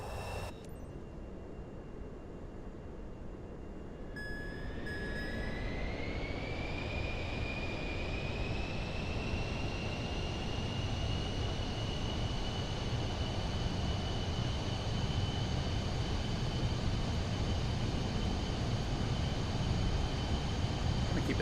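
Airliner jet engines spool up for takeoff in Microsoft Flight Simulator 2024, a rising whine settling into a steady loud roar that builds and holds alone for about twenty seconds.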